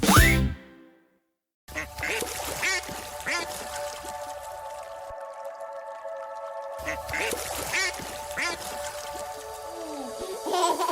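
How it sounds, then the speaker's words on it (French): Duck-like quacks sound over a bouncy musical backing, in a playful series with a brief pause early on. "Maman canard dit coin, coin, coin, coin"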